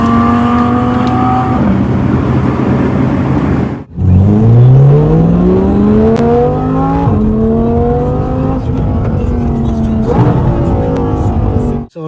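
Audi R8 with a 5.2-litre naturally aspirated V10 and custom exhaust revving hard and close, with rising and falling sweeps through repeated blips and a brief cut-off before climbing again.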